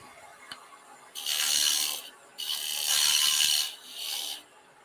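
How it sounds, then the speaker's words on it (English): Gouge cutting a recess into wood spinning on a lathe, three bursts of harsh hissing scrape, each lasting about a second with short gaps between, loud and close. "So let's stop the lathe for a second, take a look at this."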